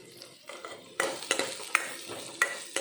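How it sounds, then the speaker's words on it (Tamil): Curry leaves tempering in hot oil for sambar, a soft steady sizzle broken by a series of sharp spoon-against-pan clinks and stirring scrapes, fairly quiet and close. "இந்த கருவேப்பிலை வந்து இதில் தாளிச்சிட்டேன்"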